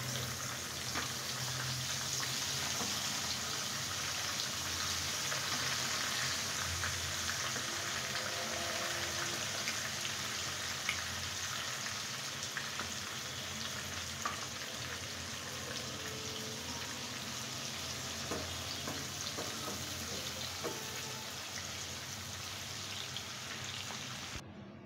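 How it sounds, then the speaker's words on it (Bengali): Fried onions for beresta crackle in hot oil in a pan, making a continuous, dense, rain-like sizzle that holds steady and fairly loud throughout, with no talking. "আমি এখন এই মাছের ভিতরে আগে বেরেস্তাগুলোকে ভেজে নেব।"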